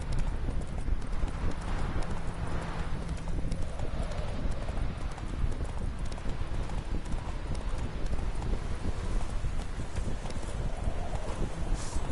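Roach the horse galloping in The Witcher 3, hooves pounding in a fast continuous clip-clop rhythm close by, loud and steady throughout with ambient game sound beneath.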